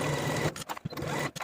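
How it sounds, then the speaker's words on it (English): A sewing machine stitches a waistband seam on pants with a 5/8 inch seam allowance, a fairly quiet rapid mechanical whir that breaks off into short bursts and stops. "take it to your sewing machine and sew it in place with a 5/8 inch seam allowance"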